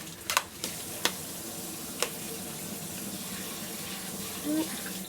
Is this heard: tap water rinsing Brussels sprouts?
yes